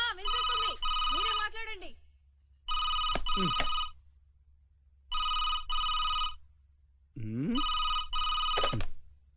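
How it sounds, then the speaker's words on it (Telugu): A telephone in a Telugu comedy film scene rings in four evenly spaced bright bursts, loud and close, with voices speaking in the gaps and over the rings. "ఫోన్ మోగుతుంటే ఎంతసేపు ఏం చేస్తున్నావు?"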